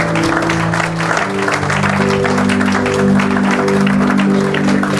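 A church congregation claps in loud, sustained applause, with a steady mix of many hands and some voices and tones underneath.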